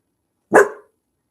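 A single sharp dog bark rings out close and loud, then cuts off into silence.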